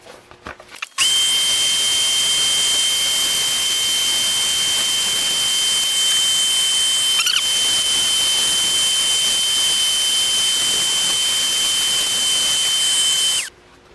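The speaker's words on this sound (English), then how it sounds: "I'm going to sand all of it down to 180." Wooden spindle spinning on a running lathe while being sanded to 180 grit, a loud steady high-pitched whine that starts abruptly, holds for about twelve seconds with one brief dip, and then stops.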